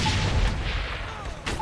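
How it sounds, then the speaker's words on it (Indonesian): A grenade explodes in the open-world video game Saints Row The Third Remastered, a loud, booming blast with a rumbling tail across a short moment of combat noise. "Oh, lempar granat aja."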